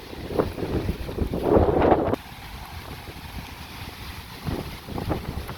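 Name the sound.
wind blowing on a walking tour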